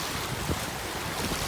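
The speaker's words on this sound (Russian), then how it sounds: "Такой ветер, конечно, он всегда волну несет хорошую." Strong wind roars steadily over Lake Baikal, with waves washing underneath in a dense, continuous rush close to the microphone.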